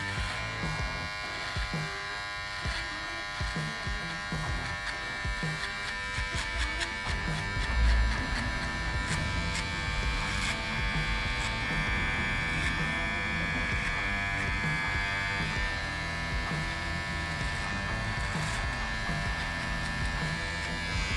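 Wahl electric hair clippers buzz steadily through a gentleman's cut, grazing hair above a line with a continuous close-up drone and small shifts in pitch as the blade moves.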